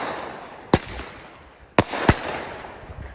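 Fireworks exploding in the sky over Atlanta near Ponce City Market: three sharp, booming bursts, one alone and then two in quick succession, each cracking out over a quiet, hissing background.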